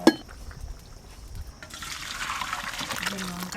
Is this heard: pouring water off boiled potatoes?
yes